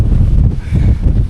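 Strong wind gusts across the open Lake District fells near Raven Crag and High Rigg, a loud, low buffeting roar that pulses unevenly throughout.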